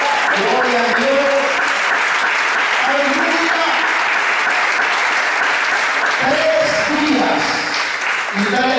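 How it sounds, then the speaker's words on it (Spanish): Church congregation clapping at a Sunday service, dense sustained applause filling the room alongside voices speaking and calling out over it, lasting the whole stretch. "Dale la aplauso al Señor."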